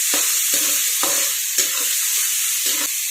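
Chopped onion sautés in a hot pan for zunka, with a steady bright sizzle throughout. Several rhythmic scraping stirs of a spoon against the pan repeat about every half second, close up, with no talking.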